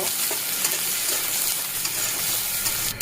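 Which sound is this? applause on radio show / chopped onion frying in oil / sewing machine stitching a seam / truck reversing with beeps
chopped onion frying in oil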